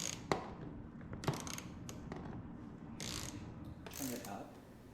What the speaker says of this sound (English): Cameron's tightening the 8mm head bolts down for the